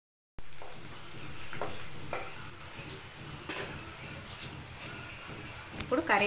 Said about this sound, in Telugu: ఈ ఎర్రగడ్డల్ని గోల్డ్ కలర్లో వచ్చేదాకా వేపుకుందాము